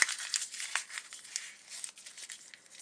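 Paper being crumpled up by hand for vintage-style journaling cards, a close crinkling burst of crackles at the start, then quieter intermittent rustles fading over a few seconds, no speech.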